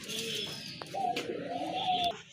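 A pair of Indian Mumbai pigeons with deep red plumage coo softly in a few low, rolling calls, with faint chirps and background noise around them and no talk.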